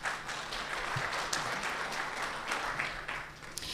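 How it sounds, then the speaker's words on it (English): An audience at a business community panel discussion applauds the panelists, a steady, dense patter of many hands at moderate distance that holds evenly throughout. "If you can give them all a round of applause"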